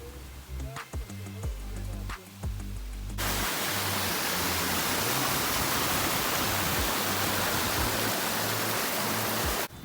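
Banjara waterfall near Kasol in Himachal roars as a dense, constant wash of noise after a brief opening of other sounds, close and loud to the end.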